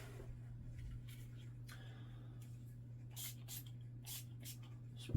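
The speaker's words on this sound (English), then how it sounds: "Spray some cleaner." Gun cleaner sprayed onto a Glock pistol frame in a few short hissing bursts, close by, over a steady low hum with no talking.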